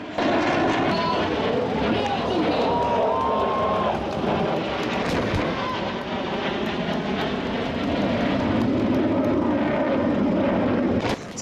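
Indonesian Air Force fighter jets circle overhead during a military combat exercise, producing a loud, continuous engine roar that swells and holds steady throughout.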